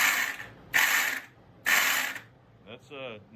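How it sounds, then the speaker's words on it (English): Starter on a 1999 Suzuki King Quad 300 ATV, suspected failing starter or flywheel, makes two loud harsh grinding bursts of about a second each, followed by a brief whirring spin with faint clicks. "That's a no bueno sound. So it's either the starter or the flywheel or both."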